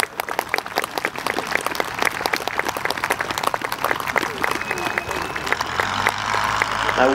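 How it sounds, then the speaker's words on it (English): Outdoor crowd at an evening airshow with Edwardian aircraft breaks into steady, close applause with scattered individual claps, sustained throughout with a faint tonal hum near the end. "I think that deserves a round of applause"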